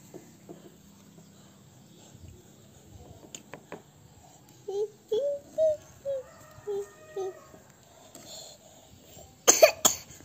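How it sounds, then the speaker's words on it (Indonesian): A small child coughs in a quick series of short, close coughs, followed by a brief louder burst near the end, with faint ambient sounds around. "batuk"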